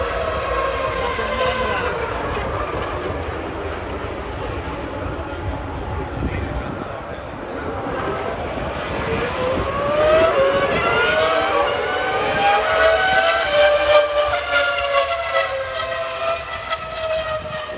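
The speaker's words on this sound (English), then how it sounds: "That high pitch noise, that's what I'm talking about. That is F1 heritage." Classic Formula 1 race cars passing at the Red Bull Ring during the Austrian Grand Prix, a loud high-pitched engine wail rising and sustained as the cars go by, with voices nearby.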